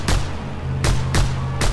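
Four sharp pistol shots in Just Cause 2, spaced unevenly over a steady low engine hum from the game, each crack broad and punchy and fairly close.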